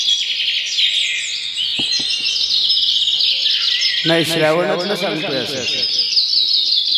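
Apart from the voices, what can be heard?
birds chirping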